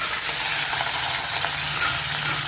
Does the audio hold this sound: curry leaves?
yes